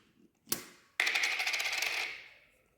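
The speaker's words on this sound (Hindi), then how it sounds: "अगर हम ये दूसरा सिक्का लगाते हैं तो झट से इसको मैग्नेट पकड़ लेगी।" A coin clicks once, then snaps onto a magnet with a bright ringing metallic clatter that decays over about a second, close and alone.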